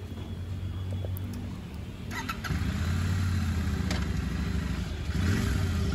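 A Royal Enfield Super Meteor 650 motorcycle rides into a service workshop, its engine idling with a low throb, then rising louder as it moves close by, with a couple of faint clanks.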